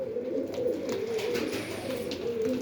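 Pigeons in an aviary with opened nesting boxes coo in a continuous low, warbling murmur, several birds overlapping at moderate distance over a faint background hiss.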